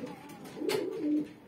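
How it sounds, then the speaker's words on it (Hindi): A soft, low pigeon coo rises briefly and then trails off, faint and close, with light background hiss. "ये एक छापदार है और पीछे एक हरा कबूतर और वो है कागजी कबूतर"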